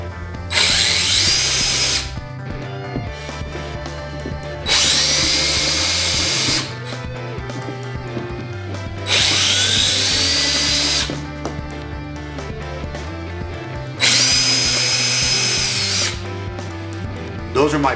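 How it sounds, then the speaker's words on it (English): A power drill bores pilot holes into a boat, whining up to speed in four loud, evenly spaced bursts of about two seconds each, with quieter handling noise between them. "I need to drill these holes"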